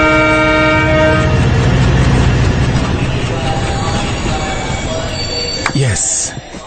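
A passenger train at Kalyan station rumbles loudly and close, its horn sounding a long steady tone at the start, with the noise easing off toward the end and a short squeal near the finish.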